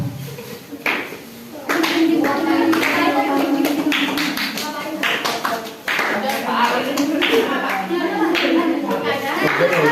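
A group at a pesantren orientation session claps in a rhythmic patterned sequence, quick sharp hand strikes in clustered bursts, with voices talking and calling out over and between the claps.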